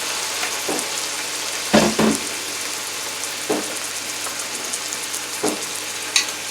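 Broccoli, peppers and mixed vegetables stir-frying in a pan for bourbon chicken: a steady close sizzle with several sharp stirring scrapes and clatters, no voices.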